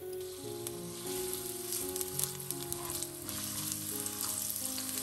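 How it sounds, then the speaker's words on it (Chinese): Minced ginger and scallion sizzling in a large spoonful of moderately hot oil in a wok, a steady close hiss with faint stirring scrapes, no voices. "倒入一大勺油在锅里，油五成热时下入姜末和葱末"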